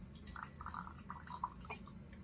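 Liquid trickles and drips from an Assassin's Teapot, a trick pot that pours two different liquids, producing faint, close splashy patters in a short uneven run.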